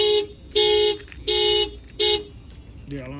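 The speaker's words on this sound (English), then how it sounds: "The alarm fires off." A 2022 Mitsubishi Outlander's factory car alarm, set off by an added shock sensor, blares in repeated loud electronic bursts, four long tones with brief gaps, then a shifting siren pattern begins near the end.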